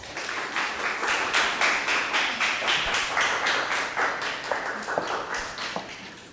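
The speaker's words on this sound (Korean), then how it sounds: "우리 황혜진 변호사를 박수로 맞아주시기 바랍니다" Audience applause at a legal seminar session welcoming a lawyer to the stage, a rhythmic, fairly close round of clapping with distinct pulsing beats that gradually softens toward the end.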